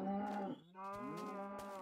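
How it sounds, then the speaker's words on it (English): Cows in the video game Hills of Moo give two drawn-out moos, one breaking off and a second, longer low call following, close and clear with nothing else over them. "See all the cows frolicking."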